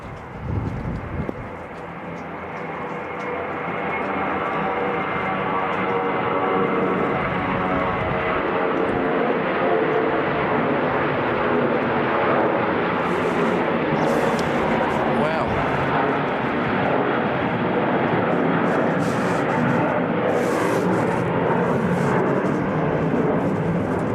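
Airplane taking off at Christchurch Airport in snowy weather, a loud broad engine roar building quickly and then holding steady at a distance, with a person talking over it.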